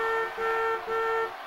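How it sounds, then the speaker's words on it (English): A car horn honks steadily, three sustained nasal blasts joined by brief dips, loud and close over a dense, noisy background. "Count the horn honks."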